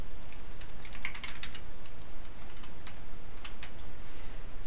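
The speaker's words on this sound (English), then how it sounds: "You can do all your various typing you want to do." Steady typing on a computer keyboard of an early 2008 Mac Pro running Office 2011, with bursts of quick, close key clicks over a constant low hum and no talking.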